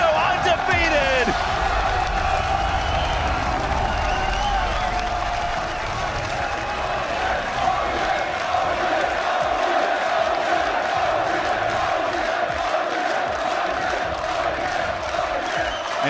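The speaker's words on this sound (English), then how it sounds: "And just hear that crowd roar for some of their hometown favorites." A large esports crowd at the League of Legends 2015 World Championship group stage in Paris roars and cheers for hometown favorites, a sustained loud wash of voices and applause with a caster talking over it.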